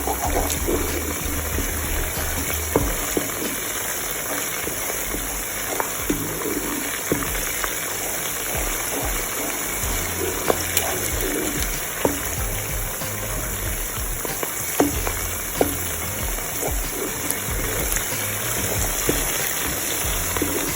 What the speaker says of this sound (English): we're just going to be frying both for about 5 minutes, just to get that puree flavor out.